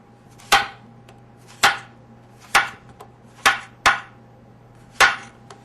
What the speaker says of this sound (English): We'll cut up our squashes. About an inch thick.